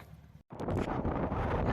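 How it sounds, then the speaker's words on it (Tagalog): Loud wind on a mountain summit at Pico de Loro, Nasugbu, Batangas buffets the microphone in a dense, roaring rumble after a brief cut, gusting steadily and close, with no one speaking. "lakas ng hangin para tayong tatangayin"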